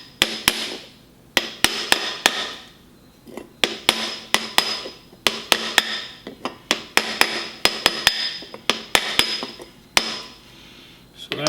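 Hammer blows tapping a new bearing race into a Dana 30 front axle of a 1972 International Scout, driven with a 2-inch socket; sharp metallic strikes come in quick bursts of several hits with short pauses, close and loud, with no talking.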